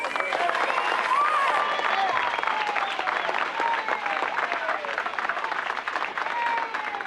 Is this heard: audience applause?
yes